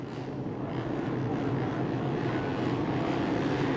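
Racing motorcycle engines revving on the grid at the start of a race at Aragon roar together in a dense, steady drone that swells slightly, with no voices.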